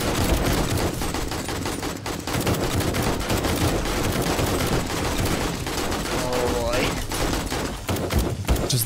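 Dense, continuous gunfire in the zombie survival game 7 Days to Die during a blood moon horde night, with rapid bursts and fusillades packed tightly for the whole stretch and speech mixed in underneath.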